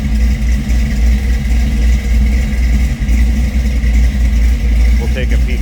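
A 1953 Chevrolet 210 with a four-barrel carburetor runs at a steady idle, a loud, continuous low engine rumble that holds even throughout, with a faint brief extra sound near the end.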